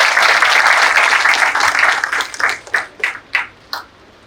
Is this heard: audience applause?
yes